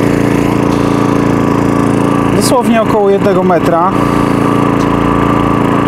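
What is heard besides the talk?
power generator running, heard from the exhaust side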